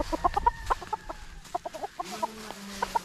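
A Pure Gilmore Hatch gamecock rooster clucks in short, soft, repeated bursts close by, with a quiet background and no talk.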